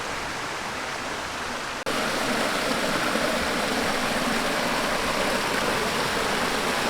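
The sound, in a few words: Little Gap Creek river flowing under old bridge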